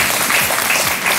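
A studio audience at a Marathi television game show claps for a contestant named Nilima, a loud dense burst of applause filling the short moment without pause.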